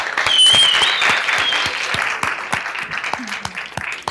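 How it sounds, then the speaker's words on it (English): Audience clapping at a tech panel event on smart communities, a dense burst of close applause that holds steady and then thins out toward the end. "let's give a round of applause to Lauren Keeson, who puts on this event"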